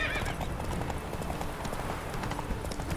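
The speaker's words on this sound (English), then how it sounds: "There's a lot of horses." Hooves clip-clop steadily as several horses gallop close by in the video game The Witcher 3: Wild Hunt, with occasional neighs and whinnies over the constant pounding rhythm.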